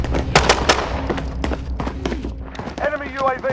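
Gunfire in a first-person shooter video game, with rapid bursts of shots that crack in quick succession, loud and close, while a voice talks over the action near the end.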